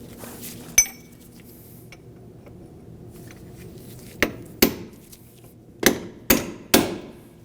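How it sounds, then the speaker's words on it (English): A hammer peens the axle nut into the axle notch on a 1993-2001 Subaru Impreza during front hub replacement: five or six sharp metallic strikes, close and loud, one early and the rest in a quick uneven cluster near the end. "You want to peen the axle nut so that it can't spin off"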